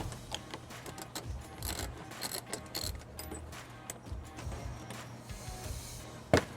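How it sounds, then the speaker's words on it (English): A 10mm socket on a ratchet turns out a bolt on a 2022-2025 Nissan Pathfinder: quiet, close clicks and metallic ticks in short irregular bursts, ending in a sharper knock. "Then we use our 10mm socket to remove the bolt."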